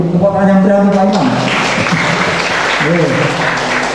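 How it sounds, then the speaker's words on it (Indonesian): Applause from the audience at a talk show with the DIY regional council (DPRD DIY) and education office, a broad, steady wash of clapping under a voice speaking at the start and again near the end. "Tepuk tangan yang berani Pak Imam."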